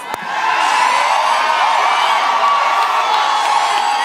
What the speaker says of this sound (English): if you're here to cheer Ivy Hollis, let me hear you make some noise.